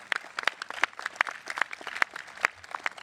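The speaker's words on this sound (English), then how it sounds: "Give him a round of applause," Audience applauding Dr. Ken Hartman at a community veterans' salute event, a sparse crowd whose claps land as distinct sharp hits in an uneven rhythm, fairly close and clear, with no talking.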